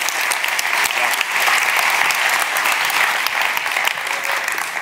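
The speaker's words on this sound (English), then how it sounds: "Give him a warm round of applause." Audience applause at an evening talk on Tony's Chocolonely, a dense, steady clapping from a sizeable crowd that carries evenly through the whole stretch without pause.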